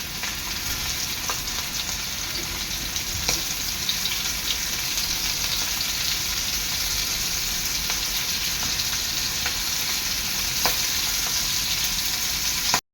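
Continuous bright sizzle and crackle of rava-coated prawns frying on a tawa over a low gas flame, with faint occasional pops, steady and close without any talking.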